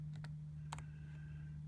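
A few faint, sparse clicks of keys on a computer keyboard being pressed, with short gaps between them, over a steady low electrical hum in a quiet room.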